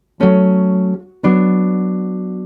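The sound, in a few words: minor chord five resolving to chord one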